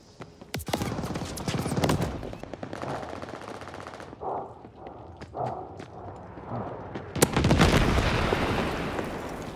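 Loud bursts of gunfire and heavy blasts from a bombing run in Call of Duty: Vanguard team deathmatch, with rapid fire, a brief lull around the middle, then a sharp explosion followed by a sustained roar.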